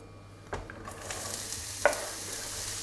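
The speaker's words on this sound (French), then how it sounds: "On va mettre un peu d'huile d'olive. On va rajouter l'oignon." Onion hits hot olive oil in a pan with a soft, quiet sizzle, a couple of stirring clatters and a brief utensil tap near the middle, no voices.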